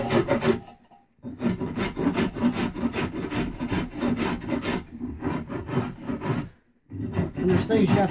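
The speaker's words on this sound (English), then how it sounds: "there's things you have to consider too with this big heavy rasp." A big heavy rasp works a yew bowstave limb in steady back-and-forth strokes, close and loud, with two brief pauses between bursts of rough wooden scraping.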